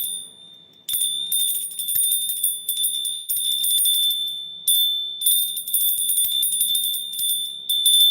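High, steady ringing tone, either a bell or an alarm, sounds in long bursts broken by short gaps. It is loud and close, with no talk over it.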